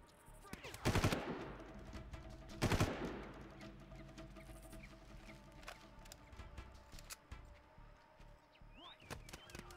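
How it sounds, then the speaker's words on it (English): Enemies fire at the player in Far Cry: two loud, sharp bursts of gunfire near the start, then scattered fainter shots and clatter, with little talk. "Where are they shooting at me from?"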